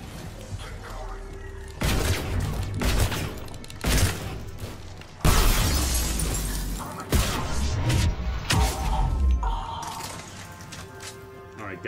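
Turret gunfire from the video game Mass Effect 3 comes as heavy, booming bursts and sharp cracks spread through the clip, mixed with a speaking voice.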